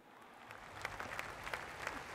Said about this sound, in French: Je vous demande de l'applaudir encore.